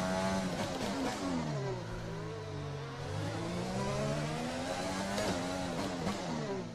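Formula 1 car engine in the F1 2020 video game at Monaco, a loud high-revving whine that drops and climbs through gear changes, with other cars passing close, steady and unbroken without talk.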